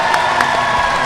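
Convention audience cheering and applauding Futurama voice-actor panelists at the MCM Expo, a dense steady wash of crowd noise with whoops rising above it across the whole short stretch.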